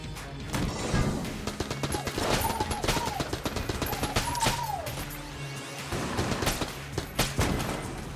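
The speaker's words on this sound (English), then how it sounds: "Got the Predator shoulder cannon." Predator shoulder cannon from the video game Enter the Gungeon firing in a dense barrage of rapid, loud blasts and crashes, with rising whistly tones weaving through the continuous gunfire.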